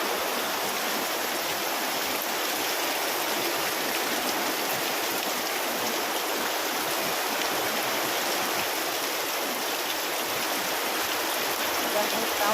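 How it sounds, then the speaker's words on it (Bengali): Heavy rain pours down outside in a steady, dense hiss of falling water that stays loud and unbroken, with a faint voice occasionally audible beneath it. "দেখো কেমন জোরে বৃষ্টি হচ্ছে"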